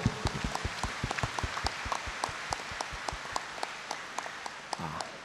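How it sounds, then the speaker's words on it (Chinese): An audience at a Buddhist memorial ceremony in Malaysia claps in sparse, scattered applause, a quiet run of separate claps heard from a distance. "我们掌声感谢他们"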